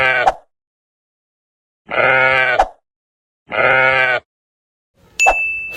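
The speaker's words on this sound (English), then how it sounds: "This is sheep." Three loud, close sheep bleats with short pauses between them, followed by a brief ringing ding.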